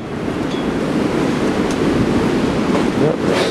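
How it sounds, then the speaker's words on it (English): Strong wind roars steadily during a snowstorm with 75 mile per hour gusts and icy conditions, a loud, continuous rushing blast buffeting the microphone with no pauses. "Still really windy out here."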